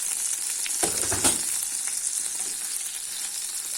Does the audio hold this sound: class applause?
no